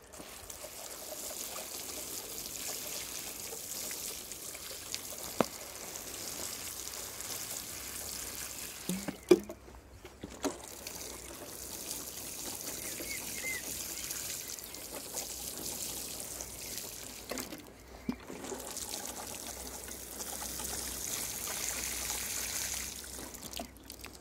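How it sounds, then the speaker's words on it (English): Water pours and trickles steadily onto newly planted cabbages in an allotment brassica bed, a soft continuous stream with a few brief knocks and pauses. "I'm going to water those in now, give them a good drink, as Monty Don always says."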